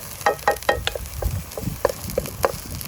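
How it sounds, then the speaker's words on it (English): Garlic and fermented soybean sautéing in a pan, a low frying crackle punctuated by a string of close, sharp clicks and scrapes as the mixture is stirred, with no talking. "I'll let that saute."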